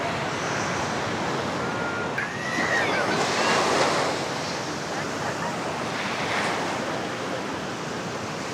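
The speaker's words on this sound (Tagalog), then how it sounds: "Medyo kumalma yung dagat." Ocean surf at Baler beach in Aurora rolls in steadily, a broad continuous wash of breaking waves mixed with gusty wind buffeting the microphone. There is no talk over it.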